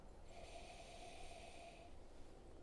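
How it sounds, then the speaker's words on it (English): A single long, soft nasal sniff of gin held in a glass, close and quiet, lasting nearly two seconds, then silence. "now we're ready for a big sniff"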